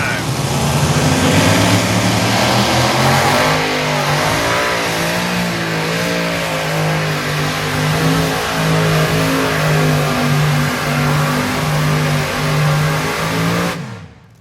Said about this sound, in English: One thing about that tractor, it always builds an incredible amount of horsepower.